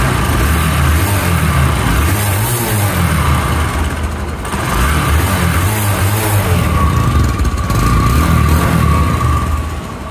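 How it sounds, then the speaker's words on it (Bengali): A 2017 Bajaj Discover 100cc motorcycle engine idles and revs steadily at close range, throttle rising and falling in a loud, continuous drone through the silencer. "এটা ফ্রি অ্যাক্সেলেটারের ইঞ্জিনের সাউন্ড, ফ্রি অ্যাক্সেলেটারের সাইলেন্সারে"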